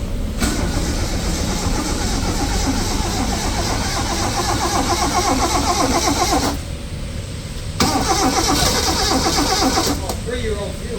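A car engine cranks over and runs on three-year-old fuel, a steady loud mechanical drone that holds for most of the stretch with a brief drop near the middle, while people talk nearby.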